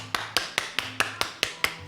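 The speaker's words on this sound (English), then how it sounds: "Clap your hands." Eight crisp hand claps in an even rhythm, roughly a quarter second apart, close and distinct over a quiet background.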